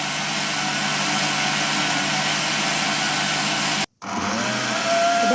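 Electric hand mixer beating eggs, sugar and oil, a steady whirring motor hum that runs continuously, cuts out briefly for a second, then resumes with a rising whine.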